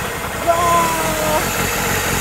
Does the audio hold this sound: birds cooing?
no